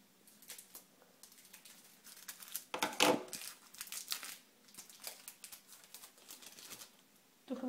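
A Panini World Cup Brasil 2014 sticker packet being torn open nearby, a run of dry crinkling rips and rustles with one sharper tear in the middle, heard with no talk over it.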